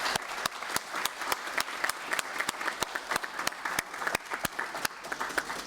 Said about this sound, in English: I'd like to ask you all to join me for a round of applause for all of the panelists and for our speaker.